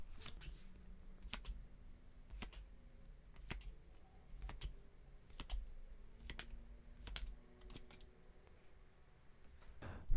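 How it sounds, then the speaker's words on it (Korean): Tarot cards are drawn one at a time in a quiet room, giving crisp, close taps and flicks about once a second over a soft hiss. There are no voices. "제가 카드 뽑아 볼게요"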